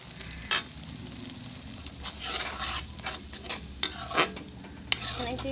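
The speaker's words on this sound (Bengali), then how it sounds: "আমি একটু সুন্দর করে ভেজে নিয়ে এর ভিতরে মশলা অ্যাড করব" A spice masala sizzles in a pan for egg biryani while a utensil stirs it in repeated scraping bursts, with several sharp clinks against the pan and a steady fry underneath.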